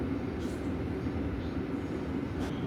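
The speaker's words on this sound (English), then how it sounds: "train 6801 departs Sluzhanka 1 station on time under a beautiful blue sky" Train 6801 on the Circum-Baikal Railway pulls slowly out of a station, heard from aboard as a low, steady rumble with faint rattling and no clear voices.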